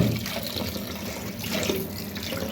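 Tap water runs into a sink while fish are washed, a continuous splashing gush with small sloshing changes, close and steady throughout, no voices.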